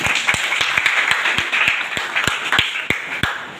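An audience in an English language class claps together in a slow, steady rhythm, sharp hand claps landing at regular intervals over a background of scattered applause.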